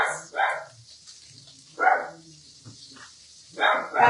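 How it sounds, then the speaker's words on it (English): A dog barks in a home kitchen while spanakopita is being made with a Thermomix TM7, giving three separate, fairly close bursts of barking spaced a second or so apart with quiet between them. "Please excuse my dog today."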